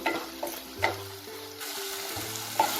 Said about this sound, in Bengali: নুনটা দিয়ে টমেটোটাকেও আমি 1 মিনিটের মতো একটু নাড়াচাড়া করে নেব।